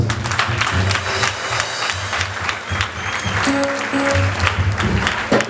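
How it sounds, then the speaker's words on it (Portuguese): Congregation applauding in a church, dense sustained clapping from many hands, loud and close, with some voices and brief tones mixed underneath. "Uma salva de palmas para nós."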